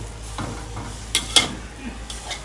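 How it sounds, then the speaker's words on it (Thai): Eggs and sesbania flowers stir-fried in a pan give a soft, steady sizzle, broken by a few quick scrapes and clinks of a utensil against the pan. "ผัดไข่ใส่ดอกสนูนะคะ"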